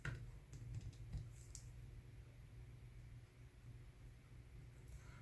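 Calculator number keys being punched in a quick series of soft, close taps during home budget arithmetic, alone over a quiet room hum with no talking.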